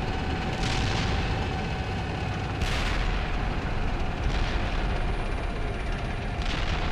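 Indirect artillery fire in the tank simulation game Steel Beasts Pro PE lands as a steady, heavy rumble punctuated by about four sharper blasts spread over several seconds, with no talking.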